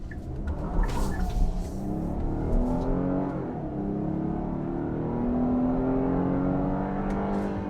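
A 2022 Kia Carnival minivan's 290-horsepower V6 accelerates hard through the front wheels, a steady engine drone rising in pitch from inside the cabin, loud and continuous with no talking.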